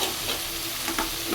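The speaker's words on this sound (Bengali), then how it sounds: "এগুলো দিয়ে ভাজা ভাজা করতে হবে।" A fish head, seasoned with salt, turmeric, chilli and cumin, sizzles steadily in a frying pan, with faint stirring scrapes close by and no voices.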